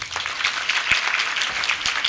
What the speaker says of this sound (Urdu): ان بچیوں کے لیے ایک تالی آپ کے لیے بجنی ضروری ہے